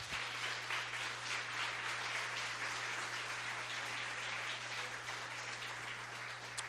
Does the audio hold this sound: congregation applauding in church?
yes